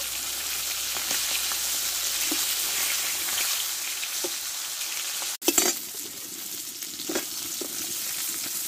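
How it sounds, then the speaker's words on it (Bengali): Steady, loud sizzling of fish frying in hot white oil, continuing throughout, with a sharp clatter partway through and a few small pops afterward. "দেখো, মাছটা আমি দুই পিঠ ভালো করে ভেজে নিয়েছি।"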